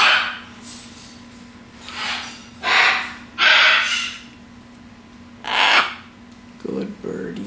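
A pet bird lets out several loud, harsh caw-like calls in separate bursts spaced a second or two apart, close by, with brief soft vocal sounds near the end.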